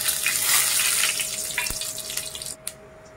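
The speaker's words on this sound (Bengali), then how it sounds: "ওই তেলেই গোটা গরম মশলা অ্যাড করছি।" Whole garam masala spices dropped into hot frying oil give a steady, close, bright sizzle that crackles throughout, then cuts off abruptly near the end, leaving faint residual hiss.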